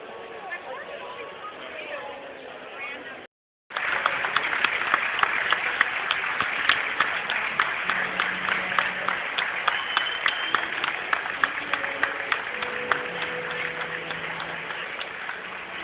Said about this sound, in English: Crowd out there by the Tony statue.